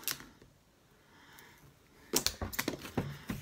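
Knife slicing open a cardboard mystery box, a soft scrape followed by a run of sharp close clicks and cuts, with no voices.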